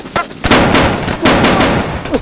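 Rapid bursts of gunfire or firecracker explosions, loud and crackling, several sharp pops close together over a noisy outdoor background.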